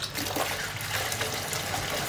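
Water pours steadily over raw chicken and splashes into a container, a close, continuous rushing flow with no talking.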